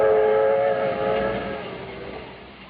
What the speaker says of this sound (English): This is the story of an overnight train trip on the 20th Century Limited from